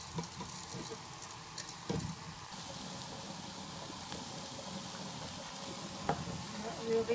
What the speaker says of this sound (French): je vais rajouter le riz vaporisé